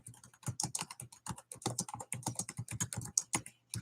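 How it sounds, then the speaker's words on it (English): Rapid clicking of keys on a computer keyboard, quiet and close, with an uneven typing rhythm and no voices. "I'm typing it as I say it."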